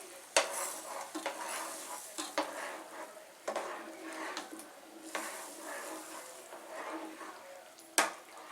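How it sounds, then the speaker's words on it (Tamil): Ground rice rava is stirred into boiling water in a pot, giving repeated scraping spoon strokes and occasional sharp knocks against the metal over a soft bubbling simmer, close and moderately quiet, with no talking. "இதுல இப்போ நம்ம ரவையா பொடிச்சு வச்சுக்கிறத கொஞ்சம் கொஞ்சமா போட்டு கலருங்க."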